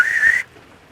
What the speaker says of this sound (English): So I'm going to blow the whistle.